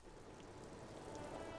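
Steady rain falls in the game Disco Elysium, a soft continuous hiss on a surface, fairly quiet and even throughout with no talk over it.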